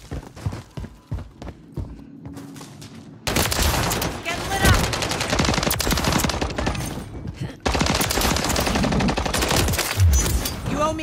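Dense rapid gunfire in Call of Duty, sustained automatic bursts loud and close, starting after a few scattered shots with a brief break midway, with voices talking over it at times.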